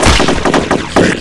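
Rapid bursts of AK rifle fire in a battle royale video game, several loud, close shots in quick succession with a brief gap before a final burst.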